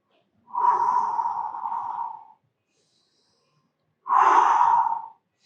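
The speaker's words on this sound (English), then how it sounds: "Always breathing." Two slow, deep breaths during a yoga balance practice: a long airy exhale of about two seconds, a pause, then a shorter breath, close and clear with silence between.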